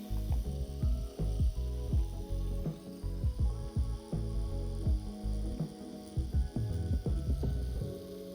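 Tattoo machine fitted with a round shader needle, running steadily in black and grey shading work, a continuous close mechanical buzz and hum with rhythmic ratcheting pulses and no talk.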